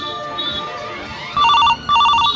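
A mobile phone ringtone sounds from a missed call, two short bursts of a bright electronic melody ringing close by after a quiet moment.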